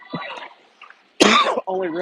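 A single sharp cough bursts out close to the mic of a girls' varsity basketball commentator, with talking just before and after it.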